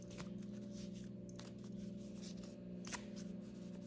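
Small tarot cards being shuffled by hand, a steady papery riffling with a few sharper flicks over a constant low hum, close and moderately quiet.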